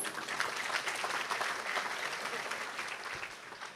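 An audience at the City of El Segundo State of the City 2025 address breaks into sustained applause, a dense, even wash of clapping heard throughout at moderate volume, with a few voices faintly underneath.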